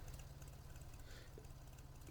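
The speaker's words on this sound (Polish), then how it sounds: "zapomniałem zgasić ciągnika, jak słyszycie." A tractor engine left idling in Farming Simulator 19 chugs with a steady, low, evenly pulsing rumble, faint and unbroken throughout with no voices over it.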